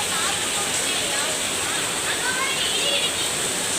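Floodwater pouring into a home, a steady loud broadband rush like a stream or small waterfall that continues without pause, with faint voices now and then underneath.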